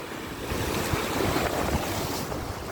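Heavy sea surf crashes and roars continuously along the boulevard at Molo, Iloilo City, a loud wash of churning water with strong wind buffeting the microphone.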